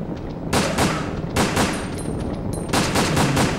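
Rapid bursts of gunfire from the PlayStation 2 shooter Resident Evil Dead Aim, loud and close, arrive in three or four clustered volleys with short gaps between them.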